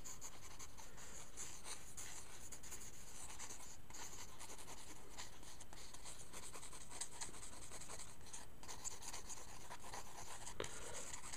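Pencil sketching on paper while drawing a nightmare demon, a soft continuous scratchy rubbing close up with quick irregular strokes, quiet and alone.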